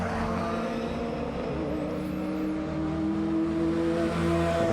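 BMW race car accelerating out of the pit lane during a race weekend, its engine a steady droning roar that builds gradually, heard from a distance with no voices.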